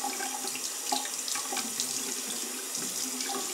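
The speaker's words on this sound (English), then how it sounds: "you just open the water" A bathroom faucet runs into a sink in a steady, splashy trickle, close and moderately quiet, with no talk.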